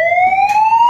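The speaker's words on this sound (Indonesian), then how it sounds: "Kalau alert itu hanya sirine." An alert siren plays through a building's speaker amplifier system as a loud, steady electronic tone rising slowly in pitch, continuous over the short span.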